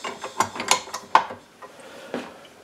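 Dough hook clicking and latching onto a stand mixer, a few sharp metallic clicks and rattles close by, then a brief scrape after a pause.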